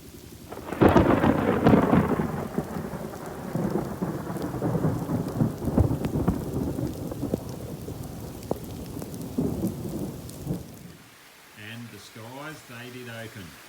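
Heavy rain pours steadily, with rolling thunder, as a storm douses a large bushfire. The downpour stays dense and loud before easing, and then a voice begins talking.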